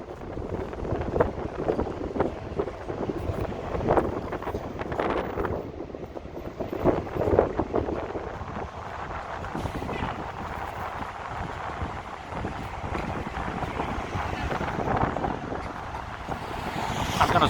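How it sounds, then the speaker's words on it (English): Strong wind gusts roar steadily across a microphone on a cold downtown Chicago street near Marina City's twin towers, a constant loud buffeting rush with no voices. "I'm sure you can hear the wind blowing in the video"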